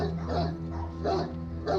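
A Great Dane barks indoors, perched on a windowsill behind glass, giving three deep, loud barks spaced about half a second apart with a little muffled voice underneath.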